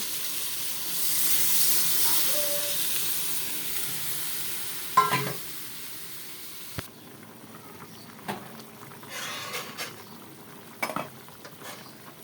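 Vegetables frying in a pan (raw and ripe tomato, potato, eggplant) for a Bengali pabda fish curry, with a steady sizzle, a sharp hiss as water goes in, and intermittent stirring scrapes and utensil clinks.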